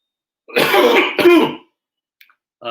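One close, harsh throat clearing, a rough double rasp lasting about a second, followed by silence and a brief trace of voice.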